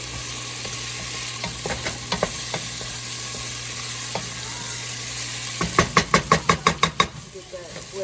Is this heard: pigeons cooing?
no